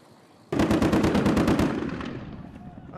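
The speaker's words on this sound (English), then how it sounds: "firing wildly into the air at a target they cannot see" Rebels fire a machine gun wildly into the air in one loud, close burst of about a dozen rapid shots, followed by a ringing echo that slowly fades.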